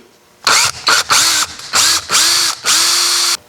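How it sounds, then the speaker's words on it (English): Power drill with a 3/32 inch bit boring pilot holes in a jon boat, several short whirring bursts that rev up and stop in quick succession, loud and close. "So first I'm just gonna make a pilot hole. This is a 3/32 bit."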